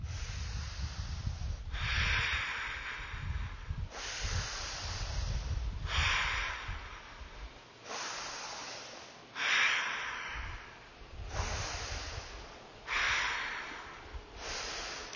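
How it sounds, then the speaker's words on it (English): Slow, deep breathing during a Kripalu vinyasa yoga pose, close and quiet, with about eight long inhale-exhale cycles in an even rhythm and no talking. "We'll take 5 breaths here."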